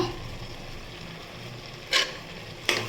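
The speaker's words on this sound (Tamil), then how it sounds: "சேர்த்து நல்லா வதக்கிக்கோங்க வதங்கிறதுக்கு கொஞ்சமாக உப்பு சேர்த்துக்கலாம்" Capsicum sautéing with onion and tomato in a pan for capsicum biryani, a soft continuous sizzle with two short sharp scrapes of a spoon stirring near the end.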